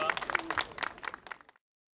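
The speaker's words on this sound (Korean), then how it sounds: "큰 박수 보내주시기 바랍니다." A small crowd at a church denomination event gives a short burst of clapping, loose and fairly close, that fades out after about a second and a half.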